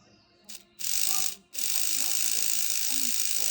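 A small N gauge model locomotive electric motor whirs with a high, buzzing hum close up, cutting out twice briefly before running steadily again.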